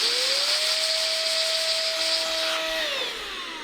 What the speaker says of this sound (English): I just want to blow that out.